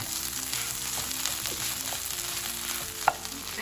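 Homemade curry stuffing fries in a pan, a soft continuous sizzle heard close with light stirring and a single brief scrape near the end, and no one talking.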